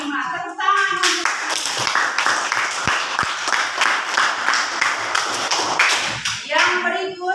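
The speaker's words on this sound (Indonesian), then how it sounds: "Tepuk tangan untuk" A small classroom group claps for a student who has just read aloud, uneven hand claps and taps in a loose rhythm following a teacher's speech, with a couple of sharp thumps in the middle and talking returning at the end.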